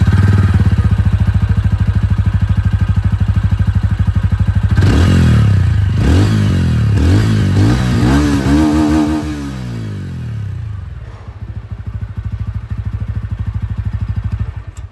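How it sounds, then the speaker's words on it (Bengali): A 2025 TVS Ronin 225 motorcycle, mid variant, idles with a steady exhaust thrum, revs up sharply several times in quick bursts, then drops back to a loud, even idle. "এখানে আপনাদেরকে আমি মিড মডেলটা হিসাবে এক্সস্ট সাউন্ডটা একবার শুনিয়ে দিই।"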